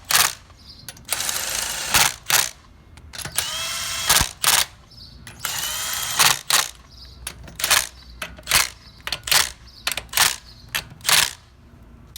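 An impact tool tightens lug nuts on a car wheel after a leaky tire bead is resealed, firing in short, sharp bursts of rattling hammering separated by brief pauses, loud and near without speech.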